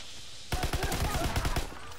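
Rapid shotgun blasts ring out in the Call of Duty WW2 beta multiplayer match, a close, loud burst of about a dozen sharp reports packed into one second, with no talk over them.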